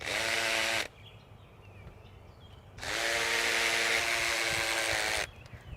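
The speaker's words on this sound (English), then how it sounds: "Now we'll switch out the drill bit for the nut driver." A power drill fitted with a nut driver drives screws in two close, loud bursts, the first short and the second lasting about two and a half seconds, with quiet handling noise between them.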